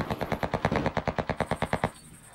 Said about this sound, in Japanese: めっちゃ近くで銃声聞こえるよ